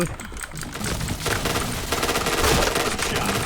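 Dense, rapid automatic gunfire in a shooting video game, sustained bursts of loud crackling shots with a brief lull, ringing steadily throughout.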